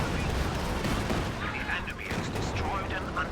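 Cannon and gunfire in Company of Heroes 2 as an Su-85 and a Panzer trade shots in a dense, continuous battle din, with a voice talking over the noise throughout.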